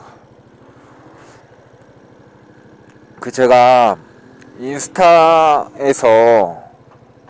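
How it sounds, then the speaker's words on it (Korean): A compact motorcycle idling at night in Mexico City, a low steady engine thrum running throughout, mostly covered by someone talking nearby. "콤팩트하네요. 오토바이가."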